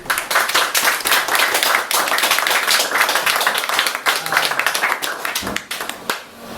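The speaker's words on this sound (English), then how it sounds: "So a round of applause for Dominic." Open-mic poetry night audience applauding for Dominic with loud, dense clapping close by, a steady roar of hands that thins and fades toward the end.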